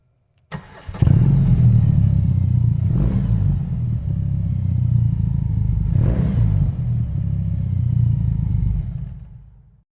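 A 2021 BMW R 18 motorcycle's boxer engine cranks and fires up, then settles into a deep, throbbing idle with a couple of brief revs before cutting off near the end.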